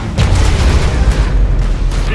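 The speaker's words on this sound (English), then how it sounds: "Nuclear missile launched." A heavy, rumbling boom from a nuclear missile launch and explosion in the mobile strategy game Command & Conquer: Rivals, a deep continuous roar that holds loud for about two seconds.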